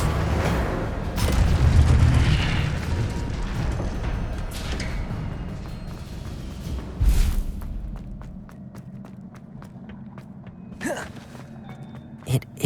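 Incendio fire spell cast in the video game Hogwarts Legacy, a loud low whooshing burst and rumble up front that fades, followed by scattered thuds, clicks and a few sharp magical impacts in a quieter scene.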